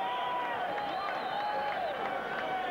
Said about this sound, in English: he just gets some polite applause from the ringside